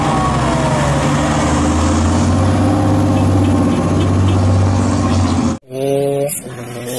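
A fire truck sounds loud and close, a heavy engine drone with harmonic siren-like tones, then a sudden break followed by a brief bright blare.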